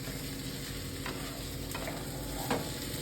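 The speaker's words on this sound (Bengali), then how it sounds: "মাছের মুড়োটা দিয়ে একটুখানি হালকা করে ভেজে নেব।" A fish head frying in hot oil in a pan for a Bengali murighonto fish-head curry, giving a steady close sizzle with a few stirring clatters, no talking.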